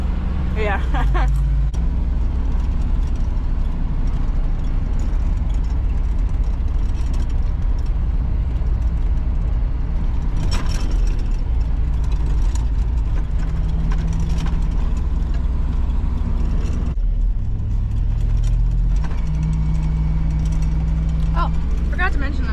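A farm truck's engine runs steadily on a snowy road after milking chores. The loud low rumble continues the whole time, and people talk over it.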